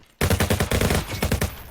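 Two guns firing at once in the VR shooter ALVO, a loud rapid burst of close, punchy automatic shots that briefly drops away and then resumes.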